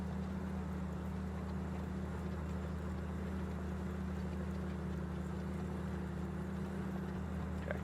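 A tractor engine in Farming Simulator 19 drones steadily, a constant low hum with a pulsing rumble that holds at an even, moderate level and has no voices over it.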